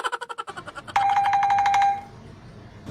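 A telephone at a station shop rings loudly and close, with a rapid burst of electronic ring pulses followed by a sustained warbling tone that cuts off.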